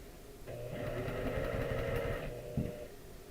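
A sewing machine used for quilting runs in one steady whirring stretch of about two seconds, moderately close, then stops with a small clunk.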